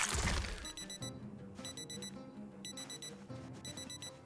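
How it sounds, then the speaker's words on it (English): An alarm clock in the zombie survival game Project Zomboid rings in regular pulsing bursts, preceded by a brief shattering crash. "we have an alarm going off right here"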